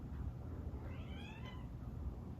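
A pet cat gives a single drawn-out meow from a short distance, rising and then falling, over a steady background hum in a quiet home.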